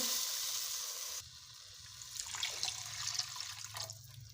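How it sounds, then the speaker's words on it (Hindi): Water pours into a cooking pot of potato kebab mixture, a steady splashing stream lasting a few seconds with some irregular sloshing and dripping, fairly faint and without talk. "5 मिनट पकाने के बाद हम इसमें 2 कप पानी ऐड करेंगे।"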